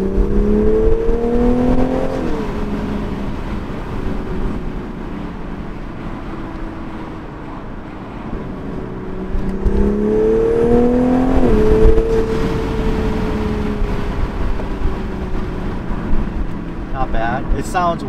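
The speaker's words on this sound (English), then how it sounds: "that's when you really hear the intakes just open up and all that induction noise" A Toyota A90 Supra engine revs twice in rising sweeps with strong intake induction noise, heard from inside the car, loud and close, with a steady drone between pulls.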